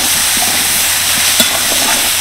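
Cauliflower being stirred in a hot pan with turmeric, chili powder and garam masala: a steady loud sizzle fills the clip, with faint scraping strokes under it and no talk.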